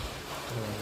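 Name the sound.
heavy rain falling at a temple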